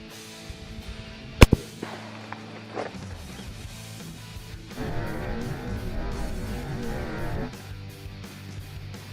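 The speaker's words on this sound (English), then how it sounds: "Here goes the shot with the 30-30 here." A 30-30 rifle fires a single sharp, loud shot into a block of clay at close range, followed by a few smaller impact knocks and a stretch of scattered rumbling and clatter as debris settles.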